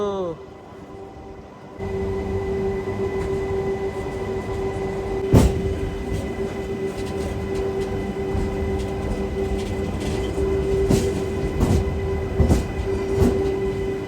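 The Kacheguda-Raichur MEMU passenger train, number 67787, runs steadily with a continuous rumble and rattle of wheels on track, plus a few sharp clacks and a brief sharper knock, heard from on board.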